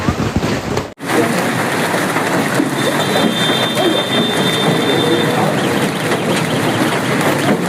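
Hailstorm with strong winds in a Chinese city, heard as a dense, loud, continuous clatter and rush of falling ice and rain after a brief cut near the start, with a faint tonal whine partway through.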